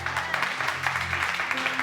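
A church congregation at a Sunday service breaks into applause and cheering for the Lord, a dense steady clapping crowd sound filling the room, with voices mixed in throughout.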